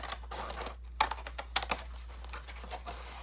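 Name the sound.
cutting the end off a cardboard box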